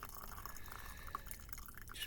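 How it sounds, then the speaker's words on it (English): Coffee trickles quietly into a cup in a thin, steady stream with a few faint drips near the end, heard close but very low in volume. "Just pouring my coffee, sorry."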